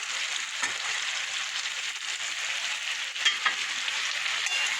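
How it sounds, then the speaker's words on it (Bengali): Potatoes and fried pointed gourd cook in spices in a pan, giving a continuous even sizzle with faint stirring scrapes throughout and a couple of louder clinks near the end; no talking. "দেখো মশলা দিয়ে আলুটা কষানো হয়ে গেছে এবার এই পটল ভাজাগুলোকে দিয়ে দেবো"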